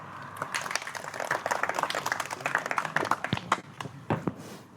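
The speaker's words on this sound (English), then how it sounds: "Give yourself a round of applause" Attendees at a Club Triumph driver's meeting clap for a few seconds, uneven claps from a modest indoor crowd building in intensity and then thinning out.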